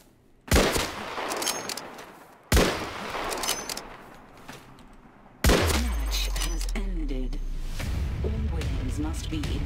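Silenced gunfire in the video game Islands of Nyne: a few separate sharp shots ring out, each followed by a brief decay, before denser game noise and talking take over.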